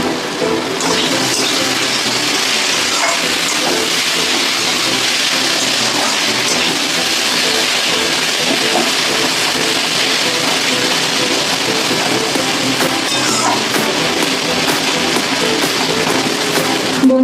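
Fish fries in hot oil with two slit green chillies, a loud, steady, close sizzle and spatter that hisses continuously and never lets up.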